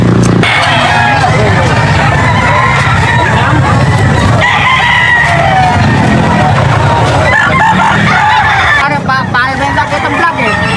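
Chickens and roosters crow and cluck at the busy Jmb Angeles pet market, loud and overlapping, under constant crowd babble and nearby voices talking.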